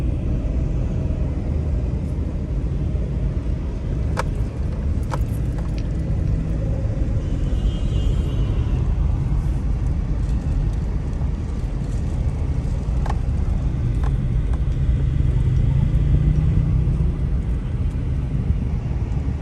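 A car moving slowly toward a roadside parking spot, a steady low rumble of engine and tyres continuing throughout with faint wind noise and a few small clicks, no talking.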